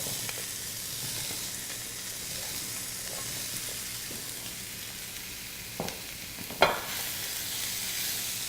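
Cubed vegetables for a Moroccan dish sizzle steadily in a hot pan, a continuous frying hiss with a few soft stirring knocks and a sharper clatter near the end.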